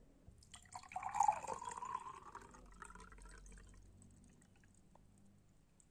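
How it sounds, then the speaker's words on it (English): Water is poured into a glass: a short splashing trickle that builds quickly and then tapers to faint dripping, quiet and close with no talking. "Now let me pour this water here."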